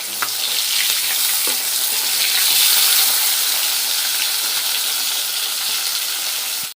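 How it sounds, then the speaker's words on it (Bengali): Fish sizzles as it fries in a pan, a dense, close crackle that holds steady for several seconds and then cuts off abruptly. "কিছু মাছ আমার ভাজা হয়ে গেছে আর এইগুলো বাকি ছিল, সব মাছগুলো ভেজে নিই।"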